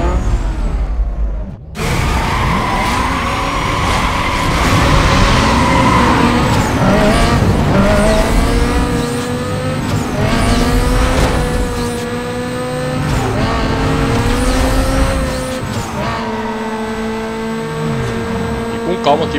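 A Mazda RX-8 launches hard in a drag race in Need for Speed: Most Wanted, its engine revving loudly and climbing through the gears with rising and falling pitch, along with tire squeal, and it stays close and continuous.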